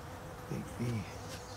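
Honeybees buzzing in an opened hive during an inspection, a dense close hum with a couple of louder, deeper buzzes from individual bees passing near.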